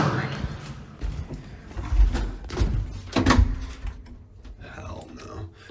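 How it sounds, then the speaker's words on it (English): An old hostel elevator arrives with a heavy knock against the door, a few thuds and rattles up close, with people talking over it. "And the elevator comes, knocks this door."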